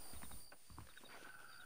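Horse hooves clip-clopping in the Red Dead Redemption video game, a quick irregular run of soft thuds at moderate volume over a steady high background tone, with no talking.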